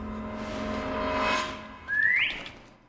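A person whistles a short rising, sliding note alone inside an abandoned ship in a horror game, heard after a swell of dark ambient drone and fairly close.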